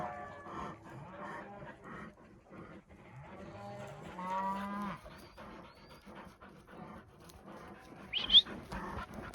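Forest cows moo in timber country with several low, drawn-out calls in the first half. A dog whimpers and gives a sharp yelp near the end, and the scene is otherwise quiet outdoors.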